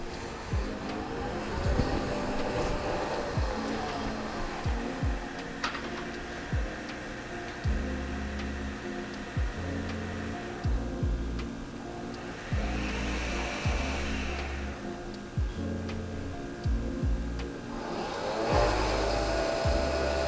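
Nespresso Vertuo Original and Vertuo Next coffee machines brewing side by side, a continuous mechanical whir and hum with rhythmic pulsing and swelling hiss, steady throughout and heard alone.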